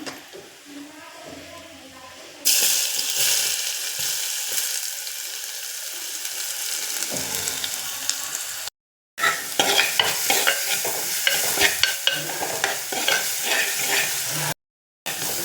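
A crushed spice mix is dropped into hot oil with popped mustard seeds and stirred in a pan while making sadya-style rasam, giving a sudden loud sizzle with steady scraping stirs and two brief gaps of silence.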